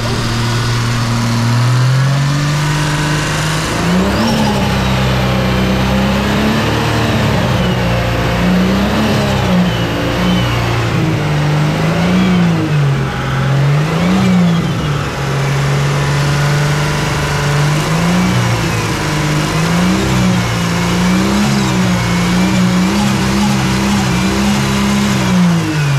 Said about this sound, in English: there's a bit of a VCT rattle